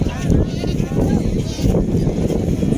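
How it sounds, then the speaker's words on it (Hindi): Gulabi breed goats at a busy goat market, bleating repeatedly close by amid loud, dense crowd chatter and livestock bustle. "यहाँ पे कुछ गुलाबी ब्रीड की बकरियाँ खड़ी हुई हैं"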